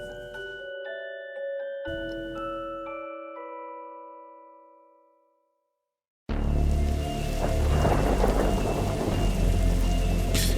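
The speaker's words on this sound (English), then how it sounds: "Yeah, that's a strange storm, all right." Storm rain and thunder in the video game The Darkside Detective, heavy rain hissing and pattering loudly with low thunder rumbling under it, starting suddenly after a few sustained chime-like tones fade to a brief silence.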